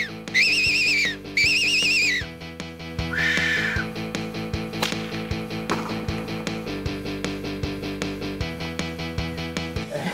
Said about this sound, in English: my first field test with the Silva Fox Whistle